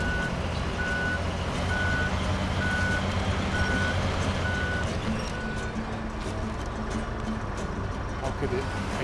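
Truck reversing beeps in SnowRunner, a steady row of evenly spaced electronic tones over a constant low engine rumble, persisting for several seconds before fading out as the drone continues.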